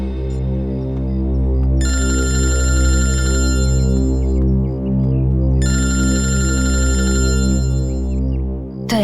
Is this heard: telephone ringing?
yes